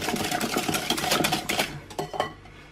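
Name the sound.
whisking cream into almond flour waffle batter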